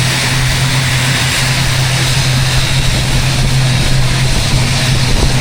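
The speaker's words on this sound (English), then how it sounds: "there goes the plane" Jet plane departing from the runway at Tuvalu's airport, a steady loud engine roar with a strong low drone that holds evenly throughout, no voices.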